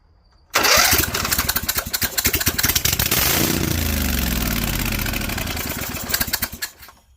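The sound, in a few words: Cub Cadet 2165 lawn tractor engine starting with boost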